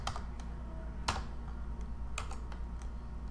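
Keys clatter on a computer keyboard as a password is entered during an online account sign-up, a quick, irregular run of light clicks with a few sharper taps standing out over a low steady hum.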